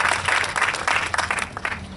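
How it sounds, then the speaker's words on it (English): A brief burst of audience applause follows a speech on economic opportunity, with scattered hands clapping in quick, uneven pulses that thin out toward the end. "But that deserves a round of applause."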